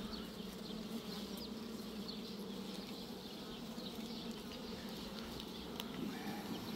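Honey bees buzz steadily at a hive expanded with a second floor, a dense, even drone that stays constant throughout with no talk.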